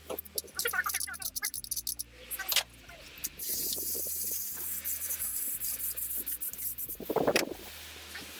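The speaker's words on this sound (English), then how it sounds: "The screwdriver goes across the surface, so don't scratch it." A screwdriver scraping carbon deposits across a surface with very light pressure, producing a steady, close rubbing and scratching that runs continuously with short breaks.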